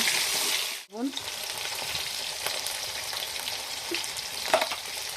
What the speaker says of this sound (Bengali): এখন আমি তেলের মধ্যে দিয়ে দিচ্ছি কচু আর আলু